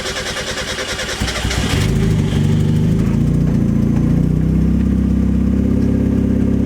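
A Honda Civic with a swapped 2JZ engine cranks slowly with a rapid chugging starter, then catches without throttle and settles into a loud, rough, steady idle.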